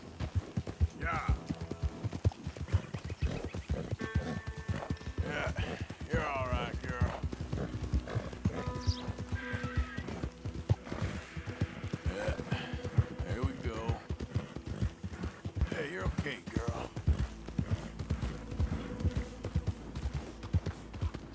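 Horse hoofbeats in Red Dead Redemption 2, a rhythmic clip-clop of riding under game music and occasional snorts, with someone talking throughout.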